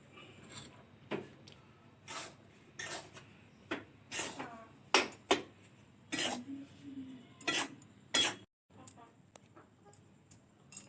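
Raw rice grains being dry-fried and stirred in a pan, kept pale rather than browned, for a fishing bait spice mix. Close, repeated scraping and rasping strokes come in uneven bursts, with a brief pause near the end.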